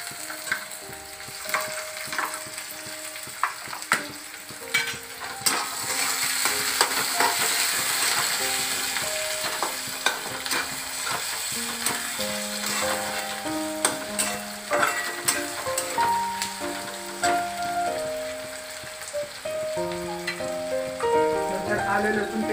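Chopped tomatoes sizzle and fry in a pan while a spoon stirs them, with repeated scraping clicks and taps over a steady crackling hiss, close and moderately loud.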